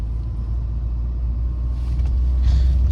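A bus descending narrow, winding mountain roads in Norway after dark, a steady low engine and road rumble throughout, with some faint hissing noise late on.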